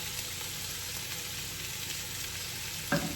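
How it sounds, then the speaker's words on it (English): Onions sweating with salt in a pan on a stove give a steady, soft sizzle throughout, with a brief louder clink or stir near the end. "So now let's sweat these onions."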